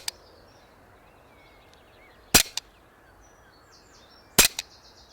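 Umarex Walther PPK CO2 air pistol fired outdoors: two sharp, loud cracks a couple of seconds apart, each with a quick mechanical echo of the slide, over faint wind and quiet background.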